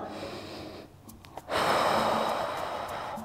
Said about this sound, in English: Let's do two more nice deep breaths here.